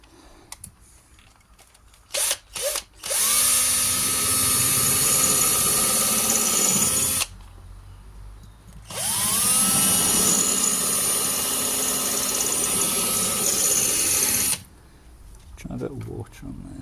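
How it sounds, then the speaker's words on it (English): An electric drill with a grinding bit runs in two long bursts during a car restoration on a Simca, a loud steady whine broken by a short pause, with a few clicks and handling noises before and after. "we'll just try them in the drill first"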